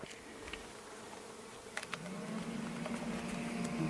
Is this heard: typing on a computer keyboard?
no